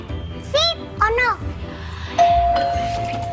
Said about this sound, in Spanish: Está sonando el timbre.